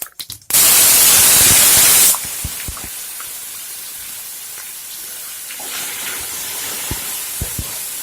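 Ground paste drops into a hot pan of brinjal with a loud, bright burst of hissing sizzle that cuts off after a couple of seconds, settling into a quieter steady crackle with occasional pops.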